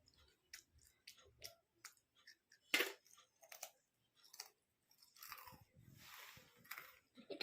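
A child crunches potato chips close up, the bites coming as uneven crackly bursts separated by short quiet pauses.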